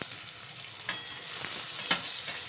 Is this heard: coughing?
no